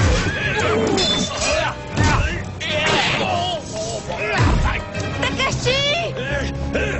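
Horses neighing and whinnying amid a medieval sword fight, several loud drawn-out whinnies mixed with shouting voices, hoofbeats and clashing action sounds throughout.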